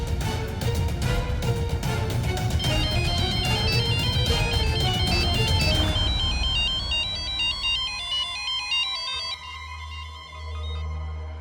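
A mobile phone left at home plays a loud, repeating melodic ringtone nearby, its notes cycling steadily before the ringing fades out near the end.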